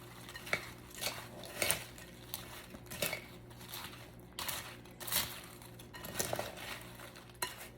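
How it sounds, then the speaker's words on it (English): A spoon scrapes and clinks against a bowl while Frito corn salad is stirred, giving irregular close clatters and scraping strokes spaced a second or so apart, with a steady low hum behind. "Now I'm just going to mix that all right in."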